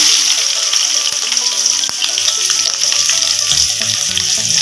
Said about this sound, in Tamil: கடுகு போட்டுருங்க கடுகு பொறிஞ்சிருச்சுங்க நம்ம சின்ன வெங்காயம் கட் பண்ணி வச்சுருக்கேன் போட்டுக்கலாம்